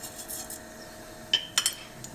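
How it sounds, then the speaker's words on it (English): Mustard seeds hitting hot oil for a Gujarati dry moong dal, giving a few sharp crackling pops and sizzles near the end after a quiet stretch, close and fairly faint, with no talking. "So now I'm going to add my mustard seeds in here."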